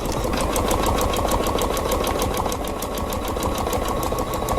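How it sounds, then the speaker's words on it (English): Sewing machine stitching along a line, a rapid, evenly spaced mechanical clatter running close and steady for several seconds with a low motor hum beneath. "Now it's going to stitch just inside that previous line"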